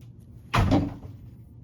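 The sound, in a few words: cat opening and closing a door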